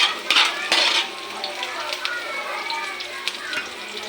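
Garlic sizzles in a very large frying pan while spaghetti sauce is being made, a soft steady frying hiss with a few clinks of a utensil against the pan near the start.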